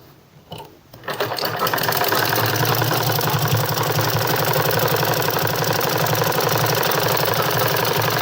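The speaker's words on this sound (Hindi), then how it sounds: "यहाँ पर किनारे किनारे पर सिलाई लगाकर इसको पक्का कर देंगे" Sewing machine stitching along the edges of women's trousers, starting after a few brief clicks and then running at a steady, fast, even mechanical clatter, loud and close with no voice.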